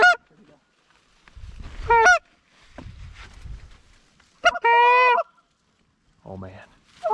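Several loud, nasal goose honks come in separate bursts, close by, with quieter rustling and movement between them, during a goose hunt over a large decoy spread.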